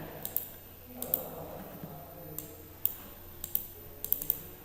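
Computer keyboard keys tapped in short scattered clicks during spreadsheet work, including a Ctrl+S save shortcut; several crisp, fairly close key strikes over a quiet room background with no speech.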